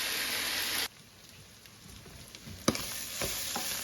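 Meat and chopped yellow onion fry in a single pot as a goulash base: a loud sizzle cuts off abruptly after the first second, then a faint simmering crackle returns with a sharp knock and renewed frying near the end.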